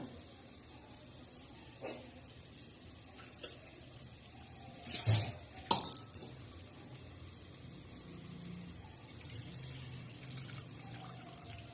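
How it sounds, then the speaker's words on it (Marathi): Tap water runs and splashes as chana dal is rinsed in a kitchen, faint and intermittent, with a few louder clinks and splashes midway and quiet stretches between. "आता आपण हरभऱ्याची डाळ अशी चांगली स्वच्छ धुवून घेऊ"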